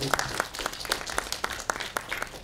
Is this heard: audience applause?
yes